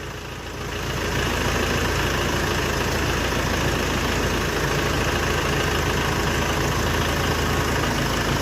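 A Dongfeng 404 tractor engine runs steadily while driving, a loud, even diesel drone that rises over the first second and then holds constant and close, with no voices.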